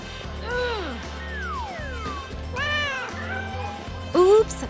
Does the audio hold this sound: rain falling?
no